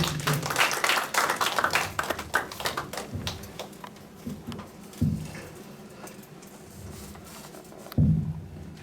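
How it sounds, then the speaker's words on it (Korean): A small lecture audience at a talk on Daegu gentry history claps briefly, with a burst of scattered clapping that thins out, followed by a few isolated thumps and handling noises. "좀 한 박수 한번 쳐주시죠"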